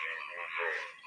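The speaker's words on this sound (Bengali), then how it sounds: "দেখেন ব্যাঙের ডাক," A frog gives a single short, raspy croak close by, standing out clearly against a quiet background.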